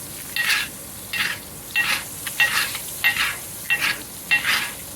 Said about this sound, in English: I'm just gonna give the char and the scallops a couple of final bastes